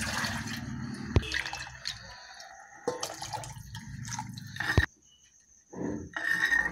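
Water splashes and trickles into a pan of tomato rasam with clatter and stirring noises, then a brief quiet before more liquid sounds.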